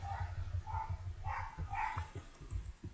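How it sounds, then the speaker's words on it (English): A neighbor's dog barks repeatedly in a loose rhythm, faint and somewhat distant, with low background rumble underneath. "Today's ambient sounds are brought to you by my neighbor's dog."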